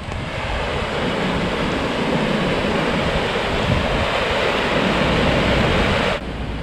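Water rushes hard through a canal bywash on the Llangollen Canal. It makes a loud, steady, close roar like surf that holds unbroken for about six seconds and then drops off sharply.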